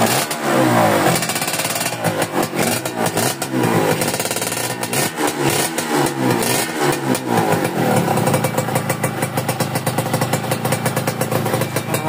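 A motorcycle engine fitted with a stainless steel manifold runs steadily and loudly for the whole stretch, a continuous rough throb with no voices over it.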